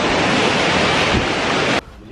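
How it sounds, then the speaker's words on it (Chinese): Sea surf washing onto a beach at Koh Samui, Thailand, a steady broadband roar of breaking waves and wind that cuts off abruptly near the end, with no voices. "我们终于到海边了，我们终于看到海啦！"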